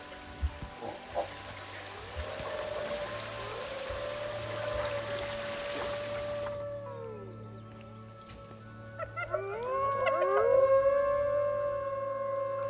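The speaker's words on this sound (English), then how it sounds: "Wolf, stop howling." Wolves at a zoo howl in long, wavering tones, one sustained howl and then several overlapping rising calls, heard under a broad hiss and a low hum.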